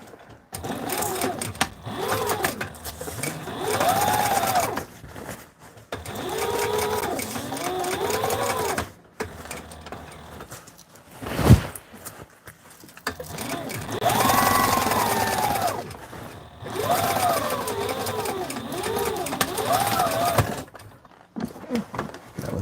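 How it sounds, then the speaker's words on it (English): An industrial sewing machine stitching flight suit fabric runs in several loud bursts of rapid whirring stitching, separated by short pauses, close by and alone. "industrial grade sewing machine. It can sew through several layers of fabric."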